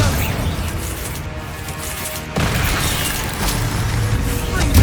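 A Bombarda blasting spell goes off in Hogwarts Legacy, a sudden heavy boom partway through a steady wash of game combat noise, with a voice over the fight.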